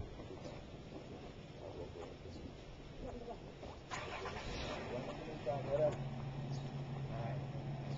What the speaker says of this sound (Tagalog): Yan, dito ang kotse namin.